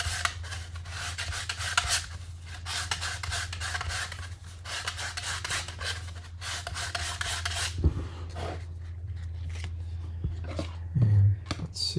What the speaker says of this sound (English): I'm going to go ahead and do a little bit more sanding on the bottom here.